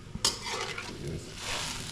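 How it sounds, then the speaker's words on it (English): A spoon stirs ingredients in a cooking pot, with a sharp clank of metal at the start followed by soft scraping and swishing, close and moderate in volume. "Come now, stir it in."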